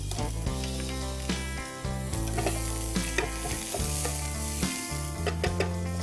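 Green pepper, carrots and boiled yellow corn tossed in a hot pan, a steady loud sizzle with repeated scraping and clattering tosses, strong broadband frying hiss throughout and no talking.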